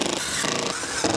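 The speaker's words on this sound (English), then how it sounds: "Now that the 6 holes are drilled" A power drill boring holes for a garage light bracket, a continuous loud whirring drone close by that runs through the whole moment without pause.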